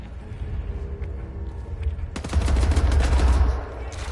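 Rapid bursts of carbine fire in the Wolfenstein video game, played in Über mode on PS4, start partway through after a quieter stretch and continue as a loud, dense volley.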